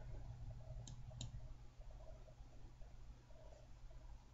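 A computer mouse gives a couple of quick, faint clicks close together near the start, then goes quiet against a low steady room hum.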